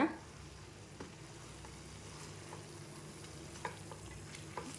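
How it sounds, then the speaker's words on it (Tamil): Mint leaves being sautéed and stirred in a pan for mint chutney, a soft steady sizzle with a few light scraping taps of the spoon against the pan, close and fairly quiet, no talk. "புதினா நல்லா வதங்கணுங்க, நல்லா வதக்கிக்கோங்க."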